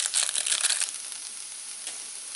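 Sapporo Ichiban chow mein noodles sizzling in a hot frying pan, a bright crackling hiss strongest at first, then settling to a softer steady sizzle.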